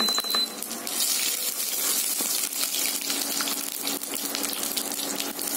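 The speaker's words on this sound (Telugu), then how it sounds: "ముందుగా ఏంటంటే తాలింపు గింజలు వేయండి" Seeds crackle and sizzle in hot oil, a dense steady hiss with fine popping, close and continuous.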